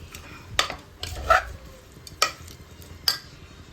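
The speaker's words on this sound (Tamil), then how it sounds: "உப்பு போட்டுட்டு அந்த உப்பு அந்த காயில் இறங்குற வரைக்கும் நம்ம கிண்டணும்" Snake gourd kootu with masala and salt stirred in a pan, a spoon scraping and knocking several times in short irregular strokes, close and fairly quiet, no voices.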